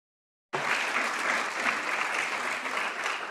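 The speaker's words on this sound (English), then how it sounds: "as you can hear from the rounds of applause here" Applause breaks out suddenly in a European Parliament committee room, many hands clapping steadily at moderate volume after a moment of silence.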